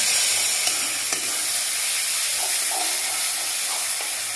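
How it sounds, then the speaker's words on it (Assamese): Chicken frying in a pan, a continuous loud sizzle and hiss with faint scraping as it is stirred, no talking. "অলপ আমি এনেকৈ ভাজিব লাগিব মাংসটো"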